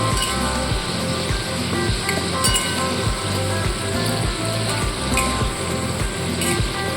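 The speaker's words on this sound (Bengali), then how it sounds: "আমি এখানে একটা ঢ্যাঁড়সকে চার ফালি করেছি আপনারা কিন্তু দু ফালি করেও ভাজতে পারেন" Quartered okra pieces fry in hot oil until crispy, giving a loud, steady sizzle with a dense crackling texture and occasional soft bubbling bursts, close and continuous with no talk.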